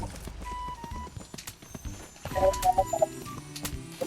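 Horse hooves clip-clop in the Free Fire video game, a quick irregular patter of hoof hits alongside short game tones and faint bird-like calls.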